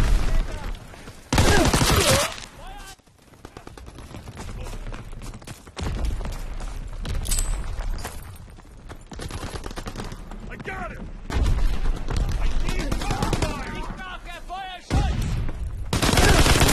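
Artillery bombardment in a video game, with repeated heavy booms and bursts of gunfire breaking through loud and near, separated by quieter stretches of rumbling battle noise.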